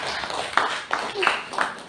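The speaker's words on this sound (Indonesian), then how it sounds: "tepuk tangan untuk Bu Muslina" A small group claps for Bu Muslina during a teachers' training session, giving a few sparse, uneven claps spaced about a third of a second apart, fairly close, with a voice underneath.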